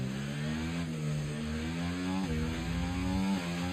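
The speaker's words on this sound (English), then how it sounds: "You can hear the AI really slowing down, not by using the brakes, but using the engine brake." A Formula 1 car engine in the F1 24 video game drops through the revs with steady harmonic tones, sliding downward in a few steps as it engine-brakes, loud and continuous.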